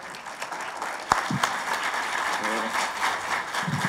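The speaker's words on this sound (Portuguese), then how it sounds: "Salva de palmas." Audience applause greets a speaker coming on stage at a DevOps tech talk, a moderate wash of clapping under a host's voice, with a sharp knock partway through.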